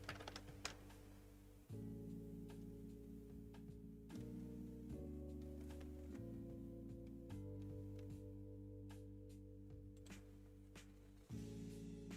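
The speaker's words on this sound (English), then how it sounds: "I'm typing it." Typing on a computer keyboard, close and steady with scattered key clicks. It plays over a loud droning background tone that shifts pitch several times, and no one speaks.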